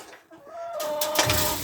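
Chickens cluck and chatter nearby in a short, busy burst, with a drawn-out call rising above the flock.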